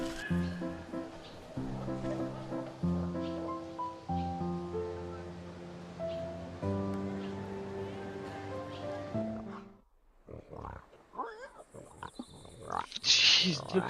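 Pigs at a pig farm in the video game Wytchwood grunt and oink, with sustained musical tones filling the first part before a burst of noisier snorting and rustling toward the end.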